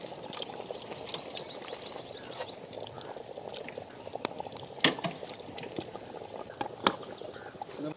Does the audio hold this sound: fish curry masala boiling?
yes